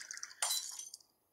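Trash being smashed in an Ice Scream horror game, heard as a sharp glassy crash with clinking debris, one loud close impact followed by a short scattering tail.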